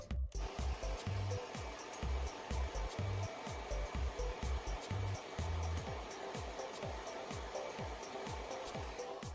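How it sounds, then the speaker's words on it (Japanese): A hair dryer blows hair dry in a salon, a loud, steady airy roar with rhythmic pulsing as it sweeps back and forth close by, without talking. "ドライヤーで乾かしていきます。"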